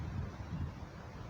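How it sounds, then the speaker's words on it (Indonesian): Wind buffeting a microphone outdoors at an abandoned amusement park site, a steady low rumbling roar with gusty fluctuations, close and continuous with no voices. "suara angin-angin yang ada di sekitar sini."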